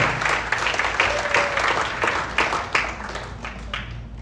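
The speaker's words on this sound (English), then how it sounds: "Please give yourselves a big round of applause." Volunteers give a round of applause at a health camp volunteer appreciation meeting. The dense clapping holds at moderate loudness with a few sharper individual claps standing out, and it thins slightly toward the end.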